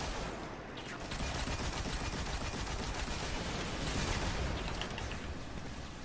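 Sustained rapid gunfire in a Destiny 2 strike, fired in a dense, continuous stream at steady loudness with mechanical clatter throughout and no voices.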